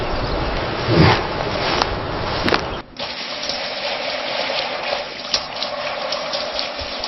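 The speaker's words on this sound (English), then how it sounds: "Sea buckthorn washing systems use gentle agitation to protect berry skins." Water churns and gushes in a sea buckthorn berry washing machine at a processing plant, gentle agitation giving a loud, steady rushing flow with brief splashy surges, close up and with no voices.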